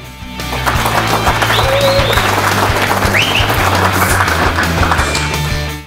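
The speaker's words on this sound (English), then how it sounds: "I wonder if you'll still be clapping in 20 minutes." An audience at the 2013 Extreme Benchrest event applauding a keynote speaker from Daystate, loud sustained clapping from a crowd that tapers slightly at the end.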